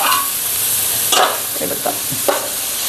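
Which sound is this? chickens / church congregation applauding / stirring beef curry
stirring beef curry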